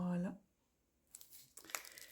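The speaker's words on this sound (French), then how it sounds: "c'est toujours dans un petit papier qui fait plein de bruit" A voice at the start, then a pause, then crisp crinkling and rustling of thin paper wrapping, close by, in irregular bursts.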